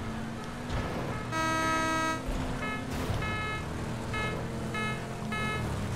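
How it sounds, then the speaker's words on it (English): In the PUBG video game, a car horn honks during a vehicle chase: one long blast followed by a string of short toots over a steady engine drone, with no talk. "I heard him honking."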